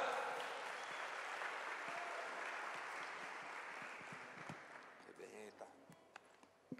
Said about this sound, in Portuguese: Salva de palmas, galera, pro Baran.